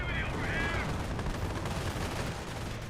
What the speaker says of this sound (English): Howitzer barrage onto the VP.